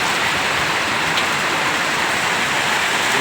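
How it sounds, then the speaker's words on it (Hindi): Steady rain falls outside in a village in Uttarakhand, a dense, even hiss of drops on surfaces heard close and continuous with no talk. "ये है बाहर बारिश का सीन, इस पूरी लोकेलिटी का व्यू।"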